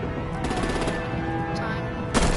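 Gunfire aimed at vehicles in Batman: The Telltale Series, a dense crackle of automatic shots under a droning hum, with a louder burst at the very end.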